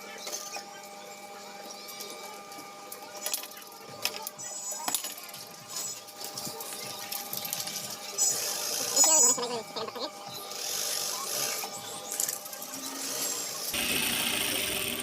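A sewing machine stitching two pieces of trouser fabric together, a steady mechanical whir with fine rhythmic ticking, close and fairly quiet, shifting in pitch as it runs.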